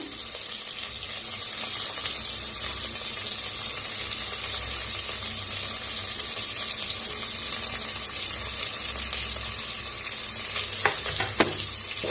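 Green chillies, peanuts, cashews and ground masala paste sizzle and fry in a pan for masale bhaat, a steady crackling hiss with occasional stirring scrapes near the end and no talk.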